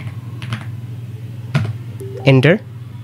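Keys clatter on a computer keyboard as a domain name is typed, a few quick taps and short bursts over a steady hum, close and fairly clear, while a voice speaks alongside.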